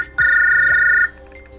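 Mobile phone ringing out with a loud, steady electronic tone that holds for nearly a second and then cuts off, close and alone.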